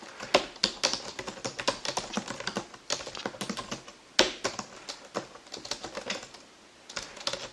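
Python code is typed on a computer keyboard in quick, dense runs of crisp key clicks. The typing goes on steadily with only brief pauses, close and moderately loud, and no one speaks.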